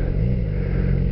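A Chevrolet Camaro passes close by as a steady, loud engine rumble heard from a motorcycle rider's position, low and continuous throughout the short moment.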